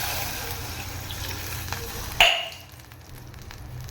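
Water splashes into a cooking pot with a brief pour, then a steady low sizzling hiss continues from the hot pan.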